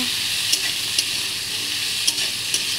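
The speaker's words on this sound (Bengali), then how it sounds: "বন্ধুরা দেখো একটু হালকা করে ভেজে নিচ্ছি" Food fries lightly in a pan with a constant bright sizzle, broken every half second or so by sharp scrapes of a spatula stirring it.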